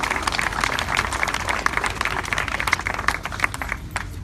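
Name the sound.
applause for youth park advocates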